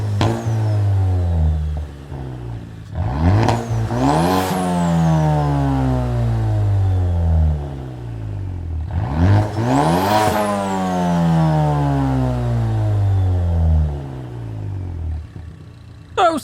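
A Mazda 3 Group 4 race car engine revving in a racing video game, two long loud rising-and-falling revs that climb steeply to a high-pitched peak, heard up close with nothing else over them.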